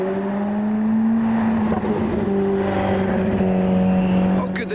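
A BMW E61 M5 with a V10 engine drives through a show car park, a loud steady engine hum with a strong tonal note holding close by, faint voices in the background.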